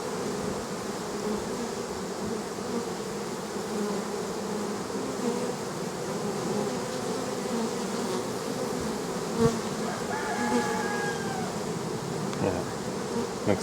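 A colony of honeybees hums steadily around an opened hive being inspected frame by frame, the dense buzzing close and continuous with a few brief louder passes near the end.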